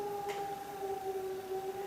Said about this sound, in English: I think I will bow to the siren.